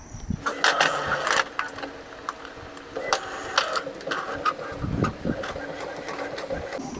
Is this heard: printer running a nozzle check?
yes